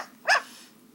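Dog gives a single short, loud bark partway through, followed by quiet low background hum.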